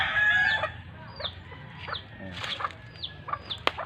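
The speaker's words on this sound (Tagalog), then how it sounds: "May manok ako guys," Chickens kept for slaughter cluck near a home garden while a rooster crows, with repeated short calls scattered throughout at close to moderate distance over a low background rumble.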